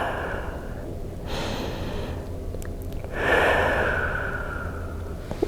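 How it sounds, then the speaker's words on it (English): Two slow, deep breaths taken during an adult ballet stretch at home, each a long airy inhale and exhale, close and fairly loud with no talking. "2 deep breaths."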